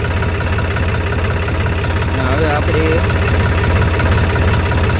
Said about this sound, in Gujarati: આપણી આ રીતના ટ્રેક્ટર ચાલુ કરી દીધું